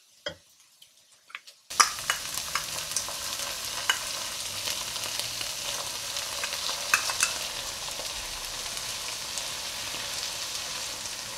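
Egg fried rice stir-frying in a hot pan with red chilli, green chilli and soy sauces, opening with a few soft taps before a loud sizzle takes over, then steady close frying with scattered ticks and stirring scrapes.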